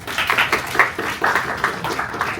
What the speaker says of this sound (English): All of you clap.